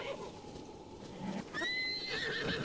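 A horse in The Legend of Zelda: Breath of the Wild gives a high, wavering whinny over a soft ambient game background, and faint hoof clops come with it.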